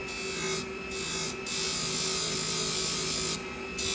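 Salon hair shears with a convex edge being honed on a flat hone, a steady continuous rasping rub with a few brief pauses between strokes, close and fairly loud, no talking.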